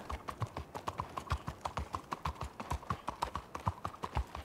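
Horse hooves clip-clop in Red Dead Redemption 2, a steady and fairly close rhythmic trotting that continues throughout with no talk over it.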